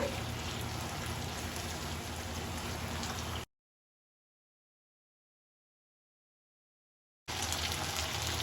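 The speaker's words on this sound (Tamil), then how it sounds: "சோயா போட்டு நல்லா மிக்ஸ் பண்ணி விட்டுக்கோங்க" Fried soya chunks being stirred into a wet masala in a pan give a steady, loud sizzling hiss that cuts off into silence for a few seconds, then returns just as dense.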